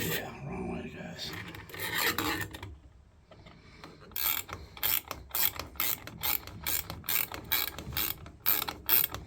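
A puller tool works a Posi-Temp shower cartridge with worn rubber seals out of the valve, starting with a muffled scrape and then a quick series of sharp, close ratchet clicks in regular bursts.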